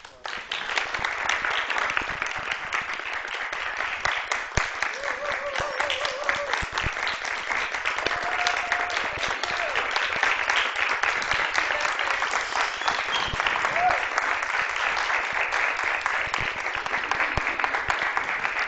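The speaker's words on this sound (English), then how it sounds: "if you guys can join me in giving Dr. Minarcik a round of applause" An audience at a medical school pathology lecture claps in sustained, dense applause for the full stretch, loud and even, with a few faint voices and whistles mixed in underneath.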